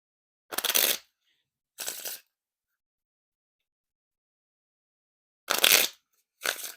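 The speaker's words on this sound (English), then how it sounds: "A little bit of a thicker kind of riffle because the cards are slightly thicker just because that vintage stock to it." Thick vintage-stock playing cards riffle shuffled in four short bursts, two early and two late, each a crisp fluttering rush lasting about half a second, close and fairly quiet, with silence between.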